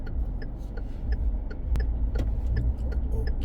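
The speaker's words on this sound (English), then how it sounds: "Just let those cars pass." Cars pass on a country road in the parish of St. John, Barbados, giving a steady low road rumble with scattered light ticks and clicks, heard from inside a slowly moving vehicle.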